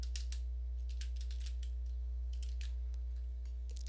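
Someone types code on a computer keyboard in quick, irregular bursts of close key clicks over a steady low electrical hum.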